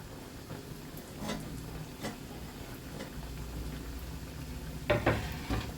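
Mathri, a flaky layered Indian snack, frying in oil over a low flame, giving a steady soft bubbling sizzle with occasional clinks of a utensil against the pan, louder near the end.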